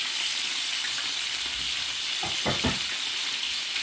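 Pork chops browning in a hot pan give off a steady, close sizzle of frying fat, with a few brief bumps and clatters in the middle as the meat is checked.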